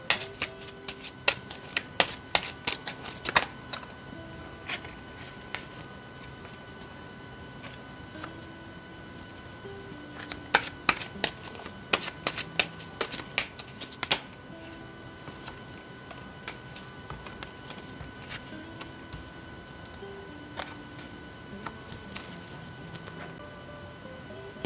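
Tarot cards are shuffled and laid out in a quiet room, making soft, irregular clicks and taps in clustered flurries with pauses between them.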